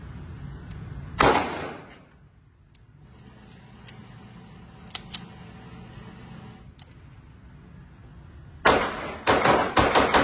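Glock pistol gunshots ring out at an outdoor shooting session: one sharp crack early, then a quiet lull, then a quick string of several loud shots near the end.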